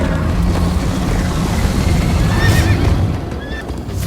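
Horse in the Minecraft: Story Mode video game galloping with steady hoofbeats over a loud rushing background, neighing sharply partway through and again near the end.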